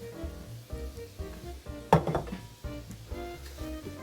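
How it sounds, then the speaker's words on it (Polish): Meat frying in a pan with carrot and onion, a soft steady sizzle broken by a scrape or clink of a utensil stirring partway through, with no talking. "Muszę to przemieszać z marchewką i podsmażać około 10 minut. całość skwierczy radośnie."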